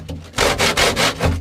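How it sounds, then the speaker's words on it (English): Rhythmic sanding strokes rasp back and forth on old fibreglass with a sanding block and coarse paper, about five firm rubbing passes in quick succession, close up. "So I've been using my sanding block,"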